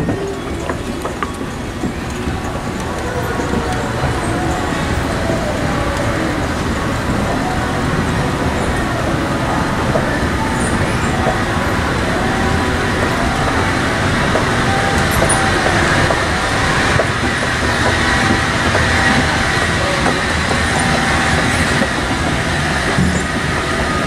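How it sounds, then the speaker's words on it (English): Montgomery escalators run at Macy's in Volusia Mall, Daytona Beach, Florida, with a steady mechanical rumble and faint rhythmic clacking of moving steps that continues without pause amid store ambience. "These are Montgomery escalators."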